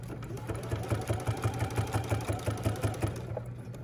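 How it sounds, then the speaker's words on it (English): Close, loud sewing machine stitching fabric with a rapid, pulsing mechanical rhythm while backstitching a sewing machine cover. "And again, I backstitch."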